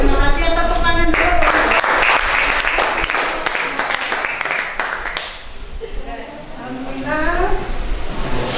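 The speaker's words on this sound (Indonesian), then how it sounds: "Terima kasih atas tepuk tangan dulu." A classroom of students claps together, a burst of dense clapping under a teacher's talking that fades as her voice continues.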